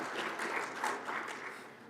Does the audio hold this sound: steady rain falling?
no